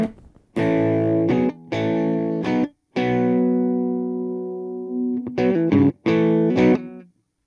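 An electric guitar with gain runs through a Donner Cyclops modeling mini amp, playing distorted chords in short bursts, then a long ringing sustain before more choppy strums.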